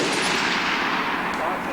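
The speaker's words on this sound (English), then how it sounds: "You like those machine guns, huh? I like those machine guns." An MG42 machine gun fires a sustained, dense burst, loud and close, a continuous roar of rapid shots with no gaps.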